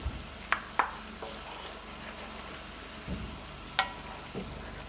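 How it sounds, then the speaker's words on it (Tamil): Chicken bhuna masala being stirred in a pan, with scattered soft scrapes and clicks of a spoon over a low, steady sizzle, the strokes irregular and close. "நல்லா மிக்ஸ் பண்ணிக்கலாம்."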